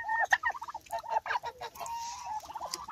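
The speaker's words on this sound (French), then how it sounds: "vous voyez les dindons" Turkeys and other fowl in a muddy farmyard beside a henhouse, giving repeated gobbling and honking calls close by, overlapping in quick bursts with squawks throughout.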